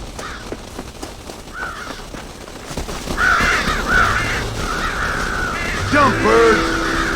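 Crows cawing in the open-world western game Red Dead Redemption, several harsh calls rising after a quieter start and continuing over low ambient game sound, with a few sharper cries near the end.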